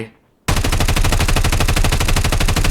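MK9 rifle firing in Call of Duty Mobile, a brief quiet moment then a sudden loud, rapid automatic burst of evenly spaced shots sustained to the end.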